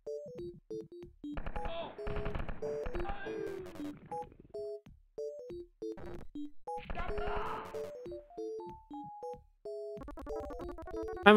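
A chain gun fires in a Wolfenstein 3D mod, with two rapid, rattling bursts of shots over bleepy synth music and game tones.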